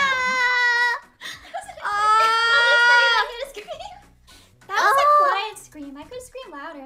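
A voice lets out long, piercing high-pitched screams imitating a whistling tea kettle, three loud bursts separated by short gasps and chatter.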